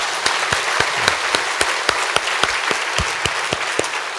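A church congregation at a revival meeting claps together in a loud, steady unison rhythm, sharp beats landing roughly every quarter second over a bed of scattered applause throughout.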